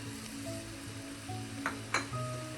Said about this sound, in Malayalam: ഇപ്പോൾ നമുക്ക് തക്കാളി ചേർക്കാം.